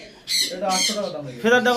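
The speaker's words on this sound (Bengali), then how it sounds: "এই দেখুন দাদা তোমার পাখি ডাকছে" A pet bird in a pigeon loft gives three short, harsh squawks close by while someone talks over them.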